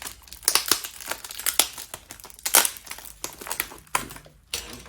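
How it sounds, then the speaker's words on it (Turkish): Box cutter slicing open a well-wrapped package of Turkish groceries ordered online in England, with close, loud bursts of tape and cardboard crinkling, tearing and crunching in uneven clusters, no talking. "Bizim falçata yine iş başına."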